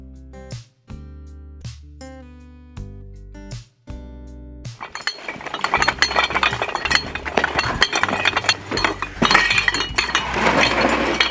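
Glass bottles being cut for an etched glass window: after a few sharp, ringing clinks of glass, a dense, steady grinding rasp of cutting takes over and runs loudly to the end.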